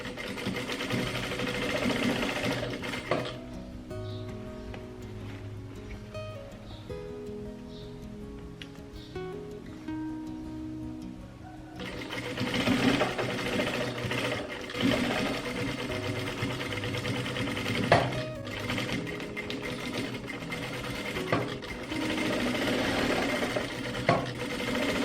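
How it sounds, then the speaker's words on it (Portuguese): A sewing machine runs steadily, stitching the seam of a long godê dress with a continuous close mechanical whir, a brief pause partway through, then more stitching. "Vou passar essa costura de cá também."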